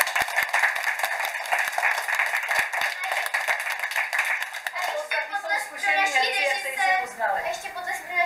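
Audience in a theatre applauds child performers after a children's stage play, brisk clapping filling the first five seconds, then fading as someone speaks.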